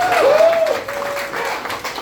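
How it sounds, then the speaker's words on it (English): Audience applause at a college speaking event, a brief burst of clapping and crowd noise with a whistle or voice tone rising over it near the start. "Give yourself a round of applause"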